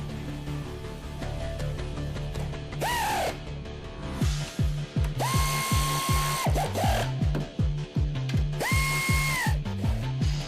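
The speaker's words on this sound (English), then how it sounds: "tighten the 3 upper mounting plate bolts" A power ratchet tightens the strut upper mounting plate bolts on a 2004 Ford Taurus SES, giving a loud rhythmic series of clicks alongside a whirring motor, with short high whines between bursts.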